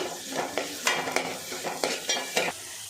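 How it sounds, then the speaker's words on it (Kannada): Chopped onions sizzle and roast in a pan with green chillies for paneer fried rice, with a steady fry broken by regular scraping stirs of a spoon, close and clear. "ಈಗ ಈರುಳ್ಳಿ ಹಾಕ್ತಾ ಇದ್ದೀನಿ. ಇದನ್ನು ಸ್ವಲ್ಪ ರೋಸ್ಟ್ ಮಾಡ್ಕೋಬೇಕು."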